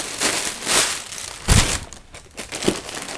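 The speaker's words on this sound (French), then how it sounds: "Je ressors les ciseaux de primaire pour m'attaquer à ce colis là." Parcel packaging crinkles and crackles loudly in several bursts as it is opened with scissors, the plastic and cardboard rustling close by with no one speaking.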